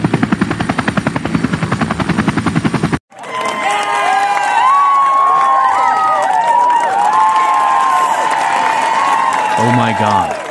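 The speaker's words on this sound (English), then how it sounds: "They are cheering for me." Crowd cheering and applause break out after a loud helicopter rotor chop stops, a dense sustained roar of voices and clapping with whistles and shouts on top, close and continuous to the end.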